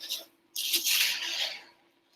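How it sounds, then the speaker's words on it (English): Rice Krispies cereal and orange marshmallow are stirred and scraped against the bottom of a pan, giving a brief soft rustle, then a louder continuous dry scraping that fades after about a second. "you got to stir really good. You definitely want to scrape down to the bottom"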